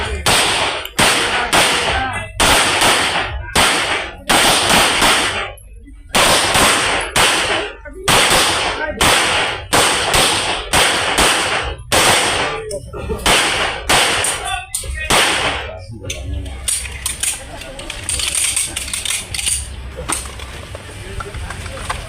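Rifles fire at a marksmanship range in a loud, rapid run of sharp cracks, about two each second, before the shots thin out into a noisy, echoing field. Voices are faintly audible.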